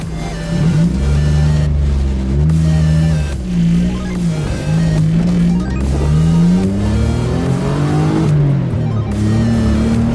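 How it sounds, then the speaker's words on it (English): A Daihatsu Mira car with a new clutch revs repeatedly on a test drive, its engine note rising and falling through several loud, close accelerations. "Just test driving the new clutch."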